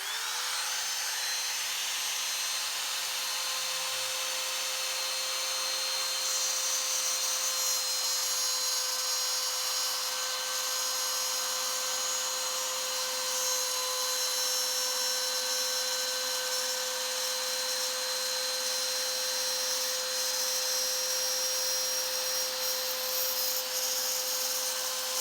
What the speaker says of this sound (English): It'll take a little bite from each side of the veneer, and these will fit together perfectly.